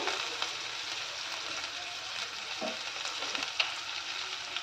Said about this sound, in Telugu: ఆనియన్ వేసిన తర్వాత కాస్త ఇలా ఫ్రై చేసుకోవాలి.